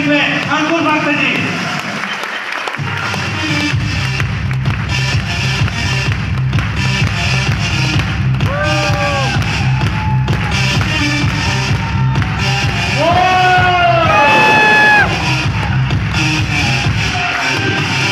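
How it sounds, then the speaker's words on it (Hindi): An audience at a success celebration in Kanker, Chhattisgarh claps loudly and cheers, sustained under a speaking voice, with music and shuffling sounds throughout. "आप लोगों के जोरदार ताली के साथ में"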